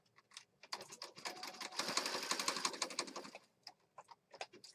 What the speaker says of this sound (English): let's stitch around this